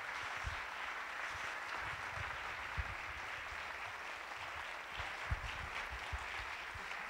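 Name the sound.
applause for a conference speaker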